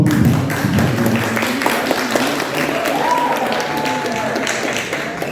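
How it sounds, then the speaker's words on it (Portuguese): Audience applause at a club meeting, a dense wash of clapping from a crowd with some murmuring voices underneath, fairly loud and sustained throughout. "Gostaria de pedir uma salva de palmas."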